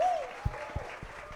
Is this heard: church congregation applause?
yes